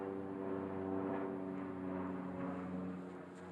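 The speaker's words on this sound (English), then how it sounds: "We got a float plane coming overhead." A float plane drones overhead near Muncho Lake, a steady low engine hum that holds level before fading slightly toward the end, heard alone without talk.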